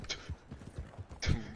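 Horse hooves in the Red Dead Online video game, a few quick, uneven clip-clop thuds at moderate volume over a brief stretch with no speech.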